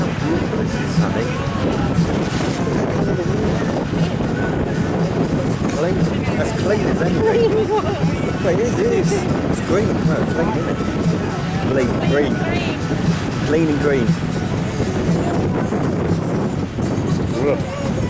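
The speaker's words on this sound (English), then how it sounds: "Whoa, it's a windy day." Strong wind buffets the microphone in continuous rumbling gusts while several people talk and exclaim over it.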